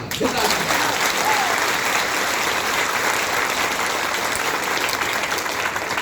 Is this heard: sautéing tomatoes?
no